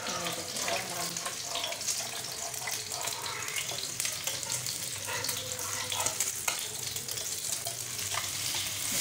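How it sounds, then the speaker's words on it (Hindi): An egg fries in a pan for toast, a dense, continuous sizzle crackling close and loud throughout, with occasional utensil scrapes. "ये देखिए हमारा अंडा नीचे से पक चुका है।"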